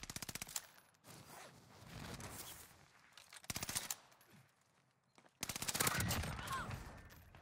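A UGM-8 machine gun in Warzone fires three loud bursts of rapid, evenly spaced shots, with quieter game noise filling the gaps between bursts.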